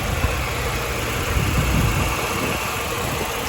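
A 1995 Volkswagen Cabrio engine idles steadily at close range, a continuous low rumble with a broad hiss on top and no talk.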